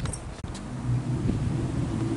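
A Wiesmann MF3 convertible sports car passes on a London street as a steady, close, low engine rumble with a brief click near the start, heard alone with no talking.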